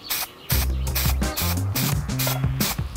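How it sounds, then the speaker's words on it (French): Smoothing spray from an aerosol can is misted onto a 3D-printed glass-fibre filament part in repeated short hissing bursts, close and fairly loud, separated by brief pauses. "je vous propose d'essayer de lisser cette pièce avec le spray de lissage qu'Atom 3D m'a envoyé"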